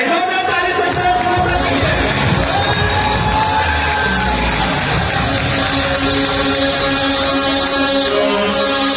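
A loud indoor stadium crowd at a Raipur event cheers and whoops continuously, a dense roar of many voices with scattered shouts and no pauses.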